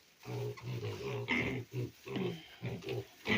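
Weaned piglets grunt and snuffle close by in a rapid, irregular series of short grunts, with no talking.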